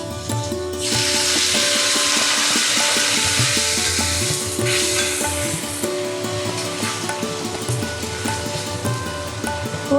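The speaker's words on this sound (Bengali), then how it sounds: "এটা এবার এতে দিয়ে দিচ্ছি জল" Water poured into a pan of frying chilli soybean sets off a sudden loud, steady sizzle that rushes on without pause, over a soft tonal music bed.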